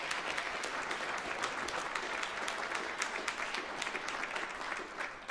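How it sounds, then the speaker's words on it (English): A large convocation audience applauds steadily, a dense continuous wash of clapping hands that holds at an even level for the full length, close and full with no voices standing out. "can we give a round of applause for the family and friends that are not here for whatever reason?"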